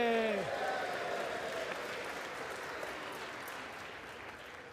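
An audience claps in a continuous, fairly faint wash that slowly fades, opening with a brief descending vocal sound layered over the start.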